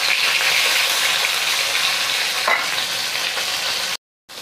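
Loud, continuous sizzling and crackling of fish heads frying in a kadai, steady throughout with no talking, cutting off abruptly near the end.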